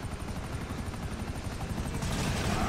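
Helicopter rotor thumping steadily and loudly at close range, a continuous chopping drone that swells a little louder near the end, with no talk over it.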